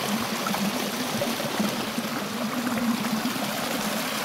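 Water from a village spring outlet feeding an irrigation channel pours and gurgles steadily in a dense, continuous rush, close and fairly loud, with no voices.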